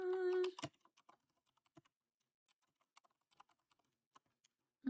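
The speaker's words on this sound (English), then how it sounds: "Sorry for the loud typing." Rapid, scattered clicks of fingers typing on a computer keyboard close to the microphone, irregular keystrokes after a brief burst of other sound at the start, fairly quiet overall with no talking.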